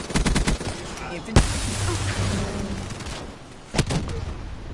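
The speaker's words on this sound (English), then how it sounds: "that was me trying to shoot a trophy system that I failed to hit." Rapid automatic gunfire bursts in Black Ops 3 multiplayer while shooting at a trophy system, with a sharp loud shot and a later burst over a steady game background.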